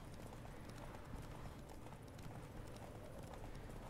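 A horse gallops in The Witcher 3: Wild Hunt, with a continuous rapid drumming of hooves under a dense, noisy background, steady and fairly faint throughout.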